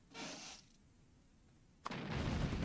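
Artillery fire in the real-time strategy game Red Alert: a muffled distant boom early on, then a louder sharp blast that rolls into a sustained rumble of shelling, with no talking.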